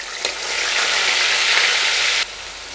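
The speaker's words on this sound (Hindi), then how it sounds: "अब हम इसमें प्याज डालेंगे।" Onions hit hot oil with cumin in a pan for a dry potato-cauliflower dish, setting off a loud, steady sizzle that holds for about two seconds and then drops abruptly to a softer hiss.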